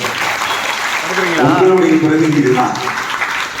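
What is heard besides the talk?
school PTA meeting audience clapping hands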